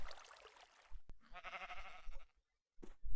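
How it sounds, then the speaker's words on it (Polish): A Minecraft sheep lets out a clear, wavering bleat in the middle, framed by brief clicks and in-game sounds, then a short silence. "Farma owiec. Znaczy farma wełny."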